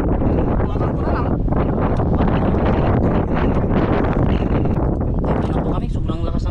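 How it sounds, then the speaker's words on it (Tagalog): Very strong wind blows outdoors across the mic in a steady, loud roar, with no clear gaps and little sign of voices over it. "sobrang lakas ng hangin"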